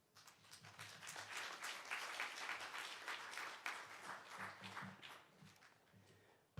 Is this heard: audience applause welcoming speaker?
yes